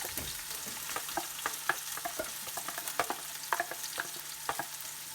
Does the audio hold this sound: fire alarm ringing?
no